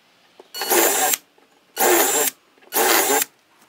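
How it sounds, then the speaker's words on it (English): Power drill driving bolts through the wood of a horizontal Long Lang beehive, three loud sustained whirring bursts of about half a second to a second each, separated by short quiet gaps, close by. "All I've got to do is drill those in."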